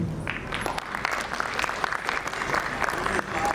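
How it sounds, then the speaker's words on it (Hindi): An audience at a military school's annual function gives loud, sustained applause welcoming cadets onto the stage, a dense, steady clapping throughout, with faint crowd voices mixed in. "तो जोरदार तालियों से स्वागत करें हमारे कैडेट्स का"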